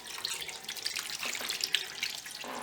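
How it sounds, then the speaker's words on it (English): Water runs steadily from a tap into a pan, about two cups, a close splashing pour with small drips, no voices. "I'm gonna add my water in here."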